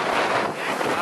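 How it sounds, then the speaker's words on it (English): Hurricane wind blasts steadily against the microphone on a downtown Washington DC street, a loud, continuous rushing roar with no pauses. "At least it's a hot wind."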